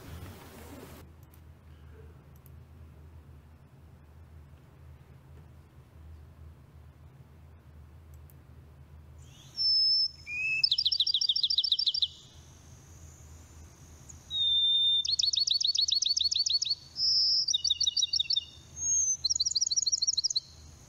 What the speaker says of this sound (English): there's a lot of Florida birds mixed in here